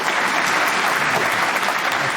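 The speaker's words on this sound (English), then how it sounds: "I'll tweak the volume on the applause then" Applause sound effect played back by a .NET program, a loud, dense, continuous clapping that fills the whole moment without any pause.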